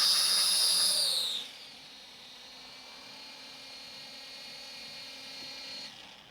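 SYMA drone motors spin up for auto takeoff, a high whine that is loud for about a second and a half, then drops to a fainter steady hum for the rest.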